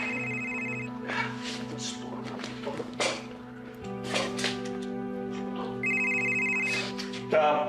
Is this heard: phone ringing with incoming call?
yes